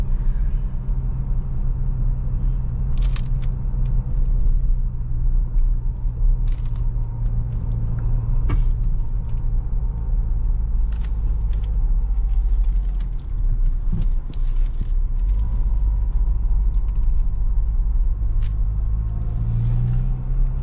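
A Mahindra Scorpio N Z8 Select SUV with a 172 bhp engine drives on the road, a steady loud low rumble of engine and tyres with light clicks and rattles inside the cabin, no voices.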